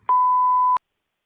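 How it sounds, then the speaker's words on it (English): A single steady electronic beep tone from a Sportacus-themed voicemail greeting, sounding loud and clean for under a second before cutting off into silence. "Please leave a message after the tone."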